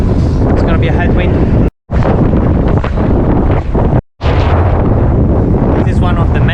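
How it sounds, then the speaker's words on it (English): Heavy headwind roars and buffets into the microphone while cycling on the Dutch coast, loud and continuous with two brief dropouts, and a voice speaks faintly under the gusts. "It's gonna be a headwind."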